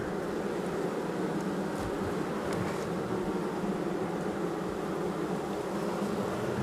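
Honey bees buzz steadily at an open hive after feeding, a dense, even drone that holds close and constant throughout with no talk over it.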